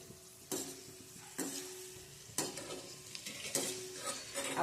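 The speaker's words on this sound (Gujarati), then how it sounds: "આપણે આજે તળવાના છીએ જોઈ શકો છો તમે। તેલ આપણે મૂકી દીધું હતું અગાઉ" Tomato kachri sizzles in hot oil, a soft continuous frying hiss broken by several stirring scrapes at regular intervals, close and fairly quiet with no voices.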